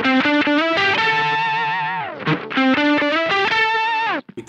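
An electric guitar runs through a Dr No Effects TVL Octavia octave fuzz pedal, playing loud, distorted, buzzy sustained notes with short rhythmic stabs and a pitch bend, ending abruptly.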